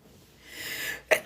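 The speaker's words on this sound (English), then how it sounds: "Why does sneezing feel so good?" A single sneeze from one person: a soft drawn-in breath builds up, then a sharp, loud burst breaks out near the end, close to the microphone.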